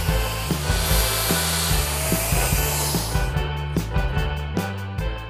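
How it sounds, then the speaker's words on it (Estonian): A chainsaw cuts steadily through a log to make blocks outdoors, a loud continuous buzzing drone with rhythmic pulsing as the chain bites, the tone shifting partway as the cut changes. "Saame õige pikkusega pakud siit nüüd saagida."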